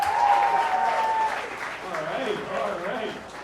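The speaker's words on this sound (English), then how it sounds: "Can we get another round of applause for Sage DeLonge?" A comedy club audience applauds a stand-up comedian, with steady clapping under a nearby voice speaking over it.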